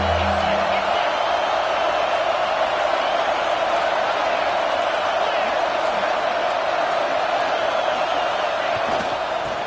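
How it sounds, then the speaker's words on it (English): Football stadium crowd roars steadily for the defense on a third down, a dense wall of cheering that holds loud and unbroken throughout. "Big third down as the crowd gets behind this defense."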